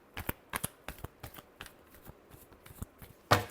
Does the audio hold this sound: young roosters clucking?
no